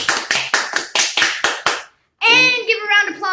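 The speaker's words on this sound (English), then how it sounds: "Give a round of applause for Carson Brown" A short run of about seven sharp, evenly spaced hand claps from a small audience at a science demonstration, stopping abruptly; a pause follows before a voice starts talking.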